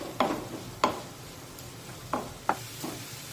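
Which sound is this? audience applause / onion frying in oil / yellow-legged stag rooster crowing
onion frying in oil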